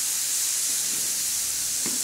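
Radish is stirred with turmeric and salt in a pan for a spicy chutney under a steady, loud hiss of sizzling oil, with a few soft scrapes of the spoon close by.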